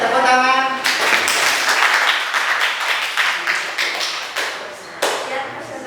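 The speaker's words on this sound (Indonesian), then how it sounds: "Ya, tepuk tangan." Classroom audience applauding after a student class presentation, a burst of loud close clapping that tapers off over several seconds, with a voice speaking briefly at the start.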